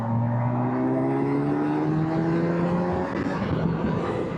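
A 2025 Kawasaki Versys 1100 four-cylinder motorcycle engine accelerating hard in third gear, a loud, smooth rising whine that climbs steadily in pitch, close and continuous for several seconds with wind noise underneath.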